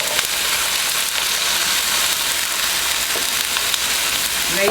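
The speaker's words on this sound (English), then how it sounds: "I'm going to just take a patty and lay it in the pan" An Angus burger patty laid into an oiled pan, giving a loud, continuous frying hiss that holds steady and close throughout, with a faint scrape near the start and no speech.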